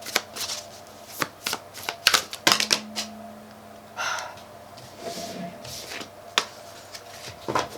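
Tarot cards slip and drop onto a wooden floor in a quick series of sharp slaps and clatters, with short pauses between them and soft breathing nearby.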